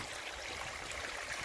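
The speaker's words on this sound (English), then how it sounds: "waterfall that I've got here." Pond water pumped through filters pours back down a small garden waterfall into a koi carp pond, a steady close splashing rush with no pauses.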